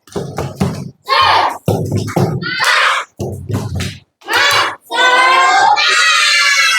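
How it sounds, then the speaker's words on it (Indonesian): Children at an Indonesian school join in a rhythmic spirit clap, bursts of sharp hand claps grouped in patterned beats, mixed with loud chanting voices close by and ending in a long shouted cheer. "Ya, tepuk semangat."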